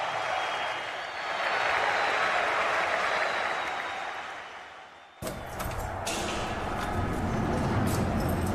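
A crowd cheers in a football video game: a steady, broad roar of cheering and applause that swells, dips, then jumps abruptly louder with clattering clapping and continues at full volume.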